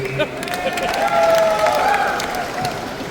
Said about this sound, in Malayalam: എവിടെ കയ്യടി?